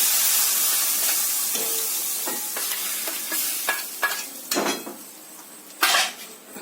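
Hot tempering oil crackles and sizzles as it hits jackfruit stew, with a few clinks and stirring knocks from a pot.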